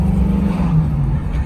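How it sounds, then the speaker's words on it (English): A car's droney exhaust while driving: a steady low drone with a sustained hum, loud and constant throughout the short stretch, with no talking. "why in the world would you get in your car with its droney exhaust"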